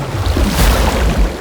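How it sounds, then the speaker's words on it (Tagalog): Ocean waves surging at a shore, a brief rushing swell with heavy low rumble and wind buffeting the microphone, loud and close. "tinangay ng alon ang bangka"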